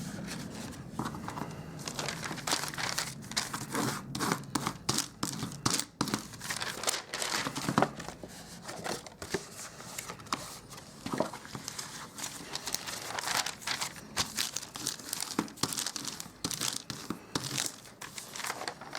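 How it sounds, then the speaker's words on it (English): Embossed card stock is folded and burnished along its score lines under a protective sheet of paper, giving close, quiet crinkling and scraping rubs in irregular bursts with no talking. "now we've folded and burnished all of the score lines"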